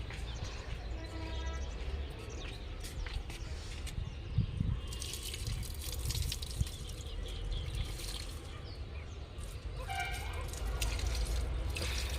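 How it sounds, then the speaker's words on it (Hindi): Potted plants being watered at home, with splashing and trickling water and drips into soil alongside intermittent clattering and handling noises, fairly close and moderately quiet. "और अब मैं थोड़ा सा पौधों को पानी दे दूँगी।"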